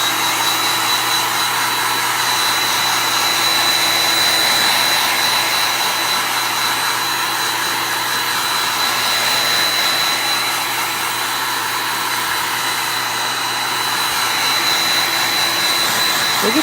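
A heat tool blows steadily and loudly without a break as it dries a layer of chalk paste on a pumpkin craft piece. No one talks over the even whir.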